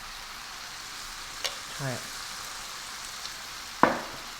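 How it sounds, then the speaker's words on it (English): Big Mac fried rice sizzling in a pan, a steady frying hiss with a couple of sharp scrapes and clatters as it is stirred, and a brief spoken word. "So give that a stir."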